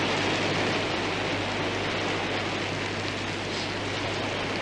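Steady rain pouring down indoors in a sitting room, a dense continuous hiss at an even level throughout, with no talking.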